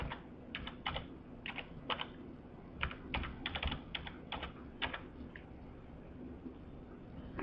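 Quiet, close typing on a computer keyboard as a layer name is entered, a quick irregular run of soft key clicks in a still room with no talking.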